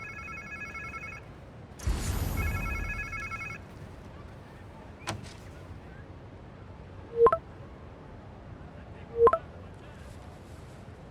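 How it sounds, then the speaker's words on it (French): A telephone rings in Marvel's Spider-Man 2: two bursts of a steady electronic ring are separated by a soft rustle, followed later by two short, sharp beeping blips over a quiet background. "On dirait un téléphone."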